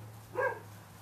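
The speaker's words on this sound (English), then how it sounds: "Who's that barking?" A single short dog bark, faint and distant, over a steady low hum.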